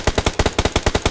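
Rapid automatic gunfire in the mobile battle royale game BGMI, about ten sharp evenly spaced shots in a steady burst, loud and close with no talk over it.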